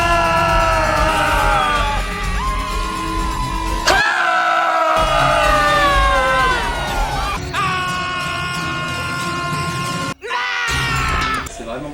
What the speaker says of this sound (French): on a à peu près un quart du film qui est composé de cris